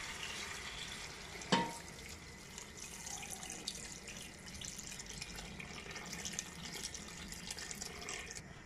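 Hot water poured into a tagine pot of fried onions, a steady rushing flow close by with a brief knock early on, continuous and fairly even throughout, with no talk.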